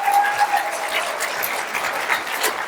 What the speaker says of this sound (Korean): 여러분 박수 한번 쳐볼게요